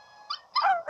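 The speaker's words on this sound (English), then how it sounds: "So if your dog starts howling like that, it will give you a signal that she has won" A dog in the Nintendogs video game gives a brief, high, wavering howl after winning a lure and disc contest, heard alone as two quick rising electronic yelps.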